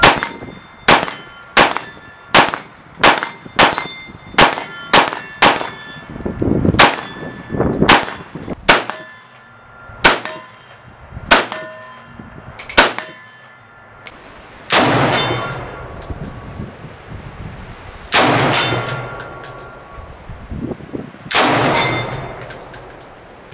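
Rifle rounds from a Vepr 7.62x54 and a Romanian RH-10 AK in 7.62x39 striking steel targets, about twenty sharp metallic clangs with ringing tails, a fast run of evenly spaced hits followed by slower, heavier impacts, with no talking.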